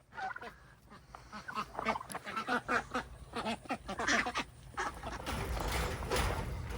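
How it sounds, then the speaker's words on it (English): Young Indian runner ducks in a pen quack and chatter steadily, a close, busy chorus of overlapping calls with soft rustling beneath. "Oh, those little Indian runner ducks, the younger ones, I always throw them a cup over here in this pen."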